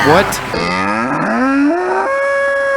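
A cow moo from the video game Blasto: one long, loud, drawn-out low bellow with rising and wavering pitch, heard alone.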